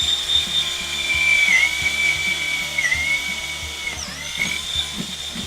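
An electric drill whines steadily, its pitch dipping as the bit works through a wooden cornhole board leg; the sound is close and continuous, with a few light knocks underneath.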